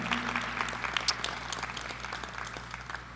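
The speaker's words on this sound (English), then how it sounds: "Let's give all of your friends and your family members a round of applause for your support" Applause at an EMS graduation ceremony, a steady crowd clapping for friends and family heard at a moderate distance in a large hall, with a low electrical hum beneath.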